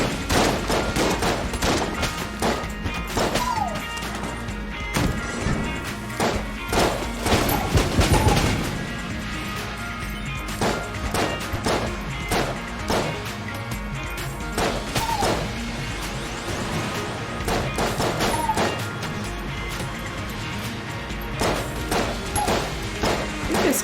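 Rapid bursts of video game gunfire in Enter the Gungeon, dense volleys of shots and crashing impacts repeating steadily over about twenty seconds, loud and close.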